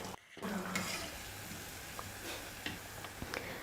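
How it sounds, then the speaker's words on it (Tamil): Susiyam sweets frying in hot oil, a soft, continuous sizzle and bubbling with a few light clicks, quiet and close with no talk. "மீதி இருக்கிற எல்லா பூர்ணத்தையும் மாவில் டிப் பண்ணி நம்ம எண்ணெயில் போட்டு பொரிச்சு எடுத்துடலாம்"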